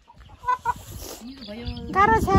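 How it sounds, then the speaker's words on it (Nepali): Chickens cluck at a village home, short throaty calls rising close by in a busy, scratchy chorus while a person speaks briefly over them. "मान्छे भन्दा कुखुरा धेरै छ हाम्रो घरमा"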